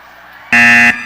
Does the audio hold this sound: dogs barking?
no